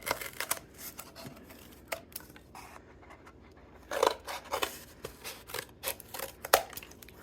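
Scissors snipping material for Christmas gnomes, a series of sharp close cuts in irregular bursts with brief quiet gaps, no talking.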